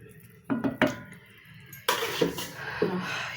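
A spoon stirs rohu fish and potato curry in a pot, giving a few sharp metallic scrapes and clinks up close, then a longer louder burst of stirring with repeated knocks against the pot.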